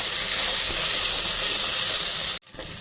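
A ground paste of ginger, garlic, coconut and dried chilli frying in oil gives a loud, even hiss that runs steadily, then cuts out abruptly near the end before resuming faintly.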